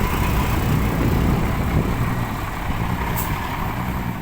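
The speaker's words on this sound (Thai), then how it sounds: "ในบ่อตอนนี้ก็เหลือแค่พี่ใหญ่คันเดียวครับ สิบล้ออิสุเดก้าครับ" An Isuzu Deca ten-wheel truck works down in a pit, its heavy engine rumbling steadily and loud throughout, with a brief high hiss near the end.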